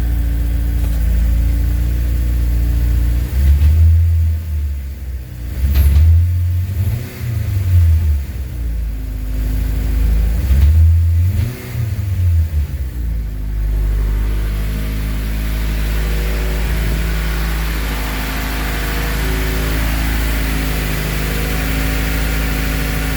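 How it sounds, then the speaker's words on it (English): A Honda CRX fitted with a K24 engine, which used to stall the moment the throttle was touched, rumbles loudly at idle, blips upward through a few quick revs, then settles back to a steady idle, with no voices. "Let's see what happens when I hit the throttle."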